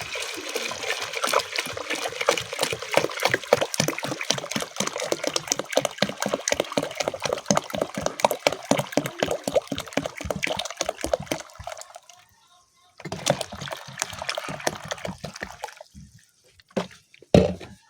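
Hot water is poured in rapid, splashing glugs over cloves in a container, a fast rhythmic burbling that pauses briefly, resumes, then trails off into scattered drips.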